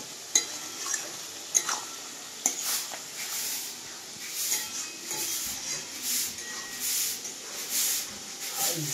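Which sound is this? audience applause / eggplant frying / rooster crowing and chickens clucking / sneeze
eggplant frying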